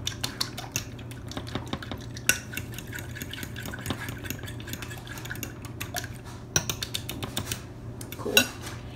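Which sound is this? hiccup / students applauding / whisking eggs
whisking eggs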